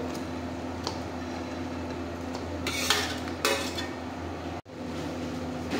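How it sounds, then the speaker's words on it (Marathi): Chicken pieces and their soup are tipped into a bubbling masala gravy in a cooking pot, giving a steady broad wash of noise with a short splashy burst and a faint clink of utensils near the middle. "आता आपण त्यामध्ये आपले चिकन व चिकनसोबत असलेले सूप त्यामध्ये टाकून देणार आहोत"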